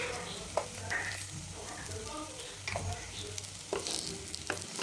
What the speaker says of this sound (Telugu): ఈ విధంగా మంచిగా కలుపుకోండి